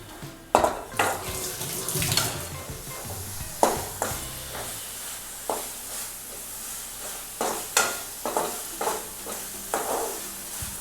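Prawn rice masala being stirred and sautéed in a pan, a spoon scraping and clacking against the metal in an irregular series of sharp knocks over a soft background sizzle, close and clear with no talking.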